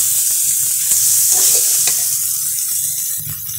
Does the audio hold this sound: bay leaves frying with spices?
yes